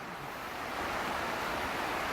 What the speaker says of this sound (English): Have the irrigation running, flushing water through the buckets.